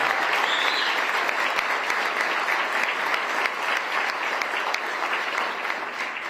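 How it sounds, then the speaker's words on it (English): An audience applauds at the opening ceremony of an innovation center, a sustained, dense crowd clapping that holds steady for several seconds and tapers slightly at the end. "Can we have a round of applause for all that?"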